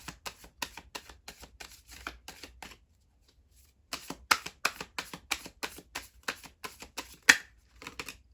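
Playing cards are shuffled in quick rapid riffles of crisp clicking, a brief pause, then another run of shuffling, up close.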